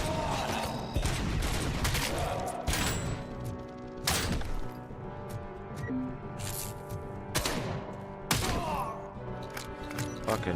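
Gunfire from a favored weapon in the video game Robocop: Rogue City, heard as loud sharp blasts and rapid volleys that repeat through the stretch, along with crashing impacts against a busy game soundscape.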